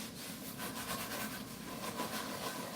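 Folded paper towel with coarse salt scrubs a burnt pan, giving a continuous gritty rasp in quick back-and-forth strokes, close and fairly steady.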